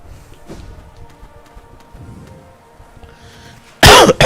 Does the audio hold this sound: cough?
yes